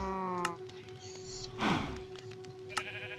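Sheep bleat in a Minecraft-style video game, with a single clear bleat in the middle and a few faint clicks and game sounds around it.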